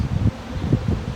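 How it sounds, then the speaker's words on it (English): Gusts of wind buffet the microphone in low, rumbling bursts, rising and falling unevenly over a short stretch outdoors beside beehives. "It is very windy."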